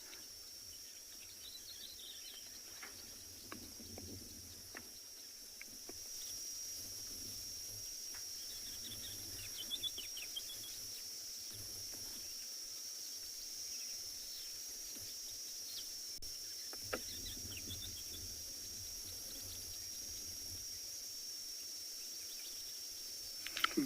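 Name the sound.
insect calling, sound amplified by its hollow back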